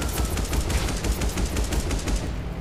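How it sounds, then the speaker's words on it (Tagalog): Rapid sustained gunfire in the open-world driving game Madout 2, dense automatic bursts crackling loudly and continuously throughout with no talk. "So barilan na dito ngayon."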